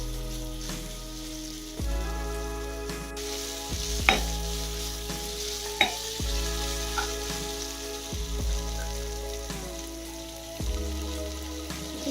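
Onions frying in a pan for spicy chicken curry make a loud, continuous crackling sizzle, with a few sharp clinks from stirring and a steady tonal hum in the background.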